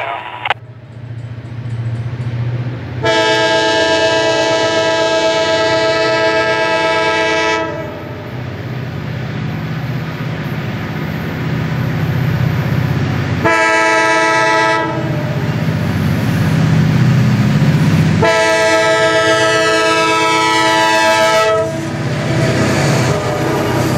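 A CSX freight train, number 453, passing near Jacksonville in 1999, sounds three loud horn blasts, two long and one short, over a steady rumble of rolling cars.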